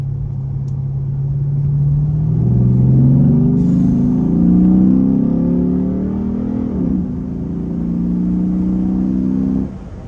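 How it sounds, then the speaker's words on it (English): A Chrysler 300C SRT8 with a Hemi V8 pulls away from inside the cabin, its deep engine note climbing steadily through the gears, with a brief dip at a shift and a loud, continuous rumble throughout. "The raucous Hemi V8 just provides you with such a feeling and such a sound that you don't get from any other"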